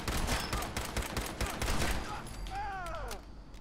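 Rapid bursts of gunfire from a gun in Fallout 4, a dense volley of close shots through the first two seconds, then a thinner tail of firing and game sounds.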